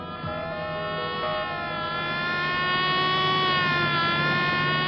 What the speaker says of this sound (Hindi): मैडम, इस सायरन से आप पर क्या गुजर रही है ये तो मैं नहीं जानता